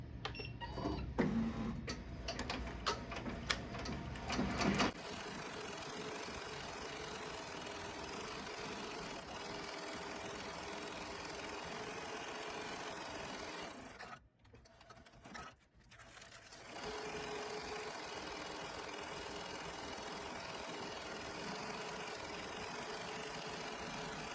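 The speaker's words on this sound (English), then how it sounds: "got the design up on the machine" An embroidery machine stitches a design onto appliqué fabric, producing a steady, close mechanical needle drone that runs almost without break, with two brief dips in the hum partway through.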